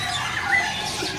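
A Nias hill myna lets out a short, harsh squawk, close and fairly loud, lasting just over a second.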